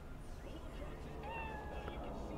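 A house cat gives a short meow close by, its rising cry standing out over low background noise from a game being played.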